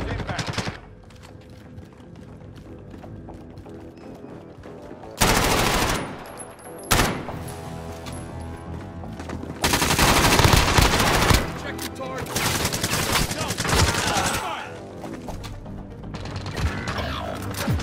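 Gunfire in the Call of Duty: Warzone video game: bursts of loud automatic fire and single shots arrive in clustered volleys, with mechanical clatter between them and occasional voice lines.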